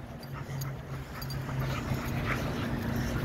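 A puppy on a walk whimpers softly and pants in quick, faint bursts, with light outdoor rustle around it and no speech.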